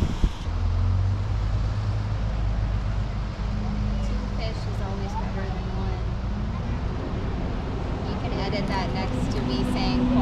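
A truck engine rumbles steadily at a low pitch nearby, a constant drone while people talk under it.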